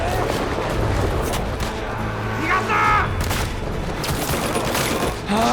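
Staged gunfire and explosions for a brutal war sequence in the film Hacksaw Ridge, a dense rolling barrage of shots and booms that fills the whole stretch, with shouting voices mixed in.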